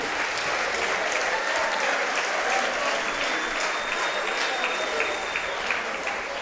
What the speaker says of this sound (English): How about a round of applause for both of these elite athletes, leaving it all in the ring tonight.